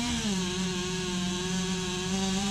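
A STIHL MS 261 chainsaw drones steadily at close range, its engine holding a constant pitch as it cuts through wood, throwing chips.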